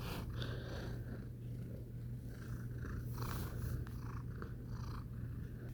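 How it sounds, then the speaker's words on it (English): A house cat purrs close up, a steady low rumbling drone that continues unbroken for several seconds with no other sounds. "My cat's coming"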